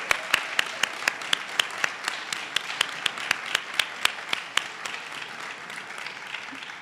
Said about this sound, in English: PAs, let's give them the applause that they so deeply deserve.